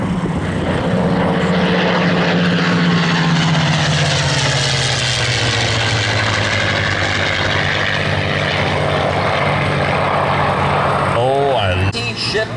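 A P-51 propeller plane roars past close by at an air show, its engine drone sliding lower in pitch as it passes, loud and continuous throughout.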